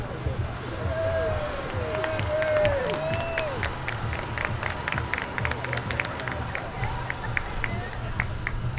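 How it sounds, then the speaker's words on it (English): A crowd at a Santa Pod alternative energy drag racing event applauds and claps steadily after an electric drag bike's run, with cheers and talk over the clapping. "Give him a round of applause."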